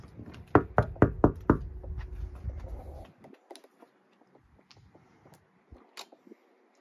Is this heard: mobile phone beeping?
no